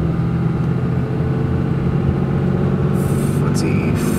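A 4th gen Cummins diesel pickup accelerates through its gears on a test drive, giving a steady, loud low diesel rumble heard from inside the cab, with a faint voice and road noise.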